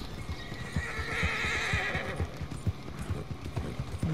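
A horse in Red Dead Redemption 2 gives a long neigh while its hooves clip-clop steadily, the neigh rising over the rhythmic footfalls.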